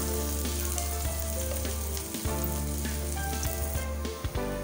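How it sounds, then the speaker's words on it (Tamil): Chopped onion sautés in hot oil for mutton bone soup, producing a loud, steady close sizzle with occasional stirring scrapes and no talk. "நான் ஒரு வெங்காயம் எடுத்து கட் பண்ணி வச்சுருக்கேன், சேர்த்துக்கலாம்."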